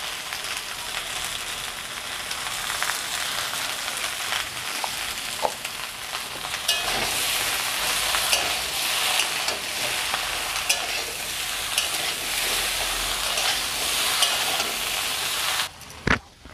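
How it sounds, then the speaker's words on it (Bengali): Okra and potatoes sauté in a hot pan with salt and turmeric, a steady broadband sizzle and frying hiss with occasional stirring scrapes, close and continuous, stopping abruptly near the end. "ঢ্যাঁড়স আলুটা আমার কষানো হয়ে গেছে"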